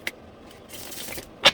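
Mermaid tarot card deck being shuffled by hand, with a quick riffling burst of cards, a soft flick at the start and a sharp, close snap of cards near the end, no talking.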